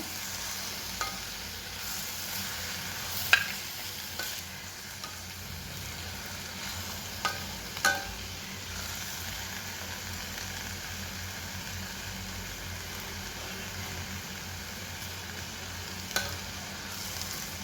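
Spring onion greens stir-fried in a kadhai over a low gas flame after tempering, giving a steady, soft sizzle with a few sharp clinks and scrapes of the spoon against the pan.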